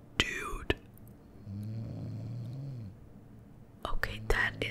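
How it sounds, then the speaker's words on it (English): A character snores in the game Skyrim around Winterhold, one long low rumbling snore in the middle, framed by soft whispered speech before and after. "this dude is a heavy snorer"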